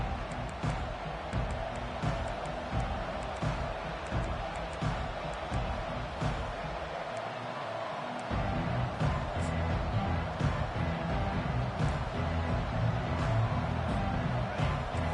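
Football stadium crowd at an Arkansas State vs Ole Miss game, a steady loud roar of many voices filling the whole stretch, with a play-by-play announcer talking over it.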